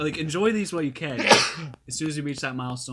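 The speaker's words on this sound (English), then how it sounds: "He will always sneeze 2 to 3 times or more." During a casual podcast chat, a man sneezes once in a sharp, loud burst, with continuous talking before and after it.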